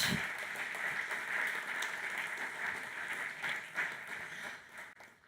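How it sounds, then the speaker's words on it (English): Audience applause at a startup event, a soft, distant wash of clapping that holds steady and fades out near the end. "We can applaud them."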